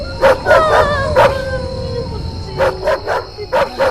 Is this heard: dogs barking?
yes